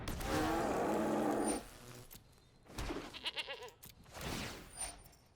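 Cartoonish goat bleats from the Magic Arena card game, several wavering cries in quick succession after a loud burst of game sound effects, fairly close and clear with no talking.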